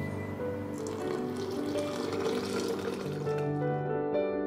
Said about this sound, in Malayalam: ഇനി ഇതിലേക്ക് നമ്മൾ തണുത്ത വെള്ളം ആഡ് ചെയ്തിട്ടാണ് മിക്സ് ചെയ്തെടുക്കുന്നത്